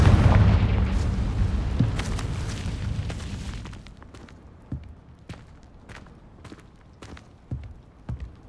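A Confringo spell explosion in the Hogwarts Legacy video game begins with a heavy, loud boom that slowly decays into a rumbling tail. Lighter thuds and clicks follow at intervals.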